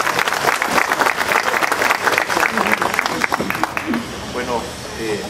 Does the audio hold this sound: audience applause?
yes